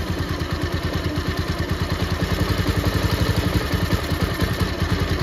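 Bajaj Pulsar motorcycle with a carburettor pickup problem, engine held at raised rpm: a steady, close, pulsing mechanical thrum with even firing beats throughout, no clear rise in pitch.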